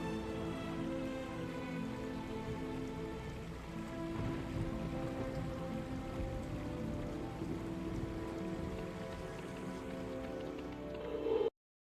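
Steady rain in the Harry Potter 2 PC game with a winter mod patters on surfaces in a dense, unbroken wash, then cuts off abruptly at the end; a wintry castle-grounds scene, with no voices.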